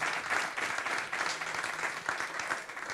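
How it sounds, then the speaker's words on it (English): Audience at a public speaking event applauds two guests with a sustained, even round of clapping that carries through the whole moment at moderate distance. "can we just give our two guests amazing, warm round of applause"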